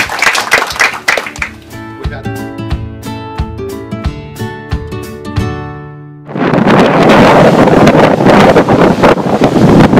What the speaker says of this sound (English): It's a little bit of a windy night tonight.